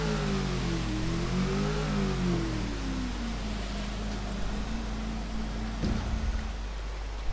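Motorboat engine in Grand Theft Auto IV droning loud and steady, its pitch rising then sliding lower as it settles to an even hum over rushing water, with a brief knock near the end.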